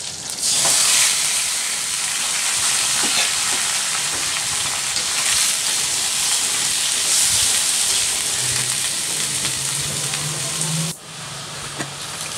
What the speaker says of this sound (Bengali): এখন এই কেটে রাখা সবজিগুলো দিয়ে দেবো